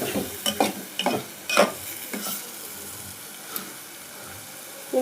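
Eggs fry in a pan for egg masala curry as a spoon scrapes and stirs in several quick strokes, then a gentler, steady sizzle carries on alone.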